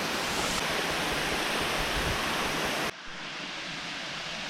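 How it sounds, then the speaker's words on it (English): A waterfall at Virgin Falls State Natural Area gives a steady broadband rush that drops abruptly to a quieter, more distant roar partway through. "your waterfall is literally straight ahead through those trees"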